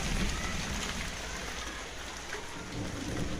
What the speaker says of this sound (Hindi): ये जी देखें कितनी ज़्यादा तेज़ बारिश हो रही है।